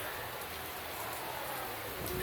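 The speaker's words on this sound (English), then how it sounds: "the rain is now going more sideways" Heavy rain falls during a thunderstorm, a dense, even hiss of pouring water that fills the whole short stretch at a steady, fairly faint level.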